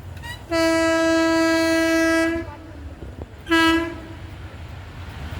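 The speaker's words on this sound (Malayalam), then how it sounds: "ഇപ്പം ട്രെയിൻ വരും." An AC passenger train approaching a station where vehicles wait, announced by a loud, close horn blast of about two seconds, then a second shorter blast after a pause, with low rumble underneath.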